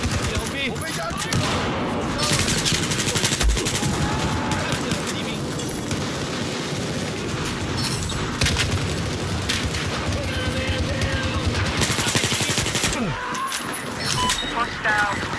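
Sustained machine-gun fire and explosions in a Battlefield 4 battle, dense and loud throughout, with voices talking over the chaos.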